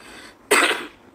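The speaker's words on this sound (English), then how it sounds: "Smoker's cough, you guys." A single sharp, harsh smoker's cough bursts out close by, followed by a short fading rasp.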